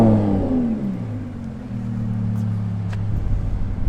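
A Lamborghini fires up by remote start, a loud close engine catching and settling into a deep, falling idle rumble before revving higher again toward the end.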